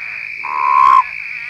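A Colorado River Toad calls in the Sonoran Desert, one loud, close, low croaking trill lasting about half a second over a steady high insect-like drone.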